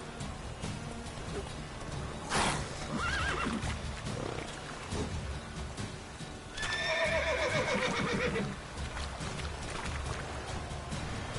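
Roach, the horse in The Witcher 3 video game, lets out two loud neighs, one short and one longer, over quiet hoofbeats and ambient game music.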